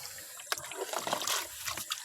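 Water trickles from a tap supplied by a stream coming down from the forest, a close, steady dribble with a few splashy spurts and no talking.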